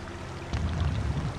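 Loud rushing waterfall in the video game American McGee's Alice, a steady broadband wash of falling water that swells up sharply partway through and keeps roaring, with no talk over it.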